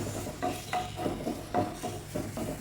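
Washed curry leaves roast in a pan for rasam powder, with a soft sizzle and repeated scraping stir strokes in an uneven rhythm, close and moderately quiet, without speech.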